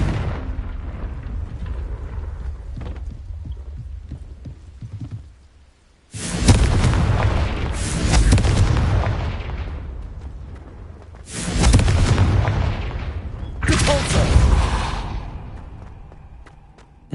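Confringo fire-spell blasts in Hogwarts Legacy: a series of loud, broad explosive bursts, three big roaring hits with rumbling tails, following a quieter stretch of ambient game noise.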